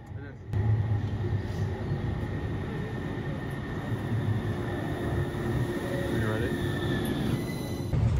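A metro train in Granada, Spain rumbles along steadily with a low mechanical drone and faint high squeals from the wheels, continuous for several seconds.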